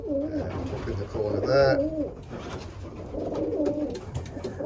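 Racing pigeons in a loft give soft, repeated cooing close by, rising and falling in short bursts while someone talks over them.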